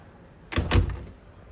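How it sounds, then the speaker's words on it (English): Double closet doors in a modular home shut with two quick wooden thumps close together, the second heavier, loud and near with no talking. "Double door. Got it where your doors shut up here at the top."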